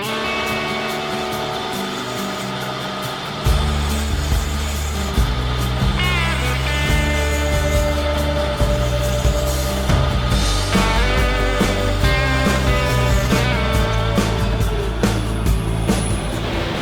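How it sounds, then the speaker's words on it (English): A wood lathe spins a lidded box blank with a steady motor hum and rumble, joined partway through by rhythmic scraping as a round nose scraper cleans up the turned surface, close and continuous. "I'm just gonna use the round nose scraper again"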